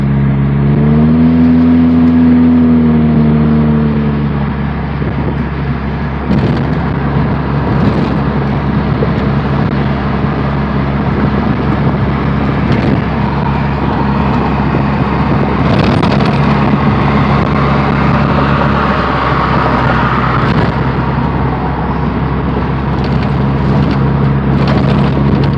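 A straight-piped GM 2.2L four-cylinder car engine pulls hard, a loud raspy exhaust drone that climbs in pitch under acceleration, then settles into a steady rough cruise with road and wind noise inside the cabin.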